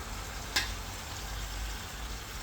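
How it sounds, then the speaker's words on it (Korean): About 900 g of seared meat goes into a pot of vegetables and white wine for a Neapolitan white Genovese ragù, giving a soft, steady sizzle with one brief clunk near the start. "그리고 구워놓은 고기를 넣습니다"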